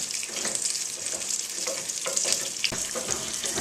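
Demi-glace bubbles and sizzles steadily as it reduces in a hot pan, a continuous bright frying hiss with occasional soft pops and stirring scrapes, close and unbroken, with no talking.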